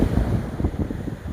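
Sea waves on a windy seashore, a rough low rumble of surf buffeted by gusts of wind against the microphone, continuous and close for the whole short stretch.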